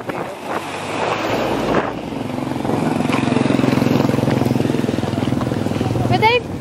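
Strong wind buffets the microphone on a cold street in Thakhek, Laos, a loud continuous roar with gusts and rumble, while a person talks over it.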